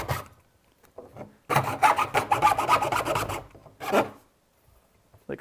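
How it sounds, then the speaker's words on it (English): A hand file rasps a sharp edge on a robot chassis with a quick run of close, loud back-and-forth strokes lasting a couple of seconds, followed by a short extra burst and faint scattered taps. "do the filing."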